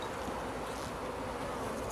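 Honey bees swarm around a hive while a swarm is being made, producing a dense, continuous buzzing hum that stays loud and close throughout, with no voices.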